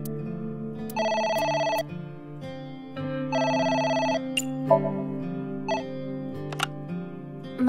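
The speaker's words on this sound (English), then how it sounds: "The phone is ringing." Telephone ringing in the video game AI: The Somnium Files, two long electronic ring bursts with a pause between, followed by quieter in-game tones and clicks over a soft background hum.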